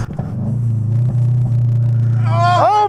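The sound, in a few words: loud Subaru car exhaust droning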